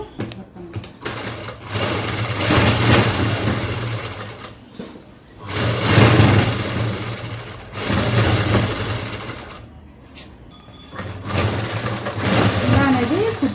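A sewing machine stitches lining cloth onto a child's dress in four loud, close runs of rapid whirring, separated by short pauses.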